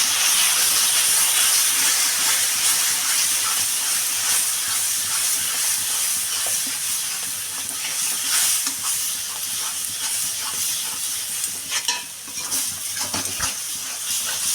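Green chilli and black pepper masala sizzles steadily in a pan for a mutton curry, a loud continuous hiss with a few faint scrapes and no talk.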